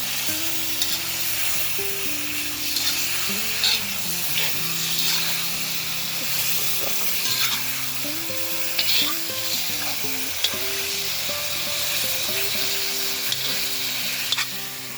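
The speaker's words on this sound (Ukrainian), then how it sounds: "Добавимо м'ясо, м'ясо воно почало смажиться." Meat sizzles and crackles steadily in hot fat for bograch, a constant close frying hiss with occasional stirring scrapes, outdoors by a lake.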